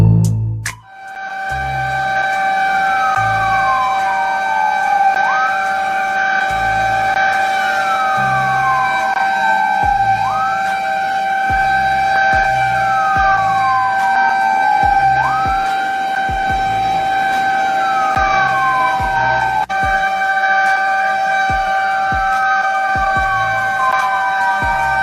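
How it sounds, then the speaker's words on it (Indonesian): A fire truck stuck in traffic blares a loud, close wailing siren that sweeps up and down over and over, while its horn honks repeatedly in short bursts beneath it the whole time. "petugas damkar telah memberi klakson berulang kali"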